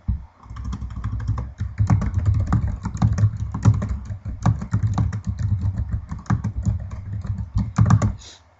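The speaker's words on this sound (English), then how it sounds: "you can go ahead and start typing just like you would in a Word document" Rapid, continuous typing on a computer keyboard, close and clear, with dense irregular key clicks and clacks running for several seconds before stopping.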